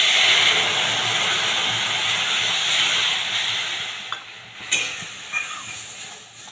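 Kashmiri chili and mustard paste hit hot oil with a loud, steady hiss and sizzle that slowly eases, broken near the end by a few sharp clinks of stirring, with no talk.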